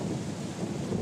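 Heavy rain with a low rumbling of thunder, a dense continuous storm wash at moderate loudness with no voices.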